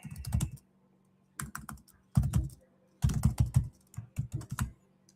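Rapid typing on a computer keyboard in several short bursts separated by brief pauses, close and crisp, with a faint low hum behind and no talking.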